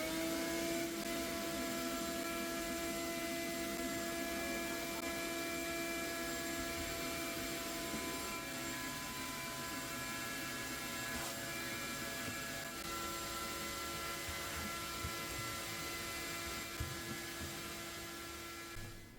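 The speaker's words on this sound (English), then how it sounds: "So I get to do the vacuuming while Bonnie does the filming." A vacuum cleaner runs steadily while a room is vacuumed, a continuous whining motor drone with tonal hum that stays fairly even throughout, heard at moderate distance with no talking.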